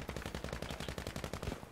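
Rapid automatic gunfire from Battlefield V, a fast steady burst of closely spaced shots running for nearly two seconds, moderately loud and alone with no talk.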